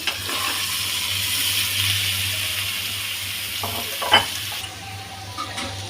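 Potatoes and runner beans go into hot spiced oil, a close, steady sizzle with a watery hiss, broken near the end by a few clattering knocks and scrapes of stirring, without speech.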